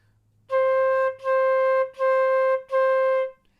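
Four even flute quarter notes on C, each held steady and separated by short tongued breaks, played clearly and close.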